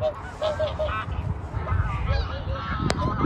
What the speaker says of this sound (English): There's a lot of ducks, you know, wild ducks, some geese as well.